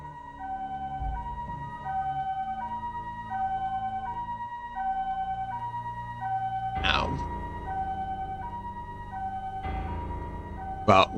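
An ambulance siren in a Racing Lagoon video game cutscene wails in a steady repeating two-tone pattern, loud and continuous, with a couple of sharp bursts of engine or impact noise breaking in partway through.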